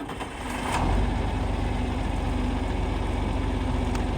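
Engine catches and settles into a steady close idle, a low throbbing rumble rising within the first second and then holding evenly, no talk.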